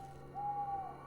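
A bird calls in a video game, a single sustained owl-like hoot held for about half a second, soft and somewhat distant over a low steady ambient hum.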